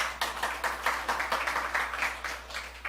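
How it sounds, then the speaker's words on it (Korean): A church congregation gives a short round of encouraging applause during an anniversary Sunday service, with scattered, uneven clapping at moderate distance and no voices over it. "우리 격려하는 박수 부탁드려요"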